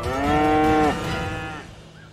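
Cattle lowing loudly in a pastoral village setting, a long drawn-out moo ringing close and strong before trailing off into a softer second call, with no talk over it.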